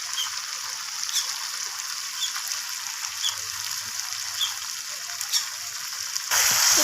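Goat mutton cooks in a pan with coriander leaves, giving a soft, continuous, close sizzle with light hiss and occasional stirring clicks. It ends in a sudden louder rush at the close, with no talking.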